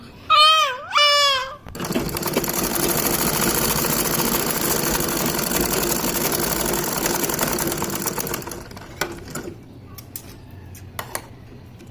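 A domestic sewing machine stitches a pair of shorts, running steadily at close range for several seconds after a brief cry-like sound, then stopping into scattered clicks and handling noises.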